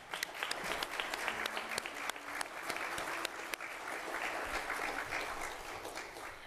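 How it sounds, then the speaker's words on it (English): A church congregation at a traditional service breaks into warm, sustained applause, individual claps audible within the dense crowd sound, moderately distant and without speech. "And let's give him another round of applause."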